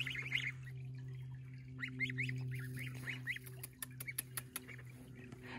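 Pekin ducklings and Chinese goslings chirp and peep in a run of short repeated calls close by, over a steady low hum, with some scuffling taps toward the end.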